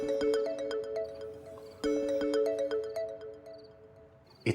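A phone ringtone for an incoming call plays alone, a repeating melodic pattern of bright tones that restarts partway through and then cuts off, fairly clear and close.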